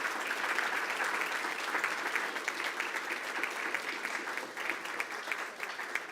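Applause from the audience at a Weslaco ISD school board meeting, honoring the boys' and girls' golf teams after district championship wins; sustained, dense clapping from a roomful of people, loud and even throughout.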